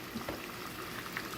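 Seasoned chicken pieces cooking slowly in a pan give off a soft, steady sizzle and bubbling, faint and continuous with no talking.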